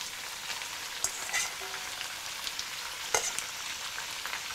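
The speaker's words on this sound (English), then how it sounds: "Just give it a few stirs and then you can add your black fungus." Pork belly frying in a pan with fermented red bean curd, a steady close sizzle with a couple of stirring scrapes and clinks, no talk.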